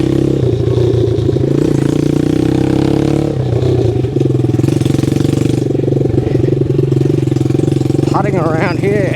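A restored 1969 Honda CD90Z motorcycle engine runs steadily and loud up close, with a continuous putter and a few rising revs, heard through a forestry area.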